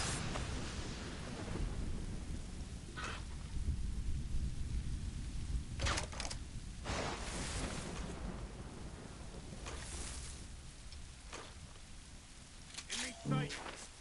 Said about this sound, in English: This storm's getting worse.